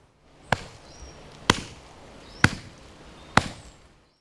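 A Roughneck axe splits small pieces of kindling wood in four sharp, close chops, evenly spaced about a second apart, with quiet gaps between strikes.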